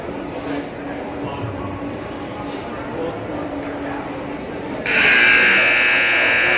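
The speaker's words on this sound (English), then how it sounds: "Buzzer sounds, we're ready to start the third." A steady electronic buzzer blares over a murmuring crowd in an ice rink at a U14 hockey game, sounding loudly for a couple of seconds near the end.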